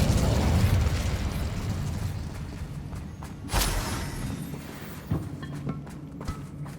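Incendio fire spell cast at a spider in Hogwarts Legacy, a low rumbling burst with a sharp flare of flame midway, followed by smaller popping bursts.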